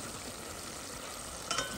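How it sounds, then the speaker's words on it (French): Tomato sauce for rougail with blood sausage simmers in a pot, a soft steady hiss of cooking with a brief faint clink near the end. "Les tomates sont en train de devenir jolies dans la marmite."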